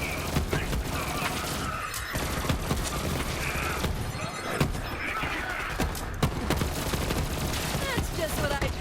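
A weapon in Borderlands 3 fires rapid machine-gun bursts over dense game action, with sharp repeated shots, mechanical clatter and impacts packed together at high volume.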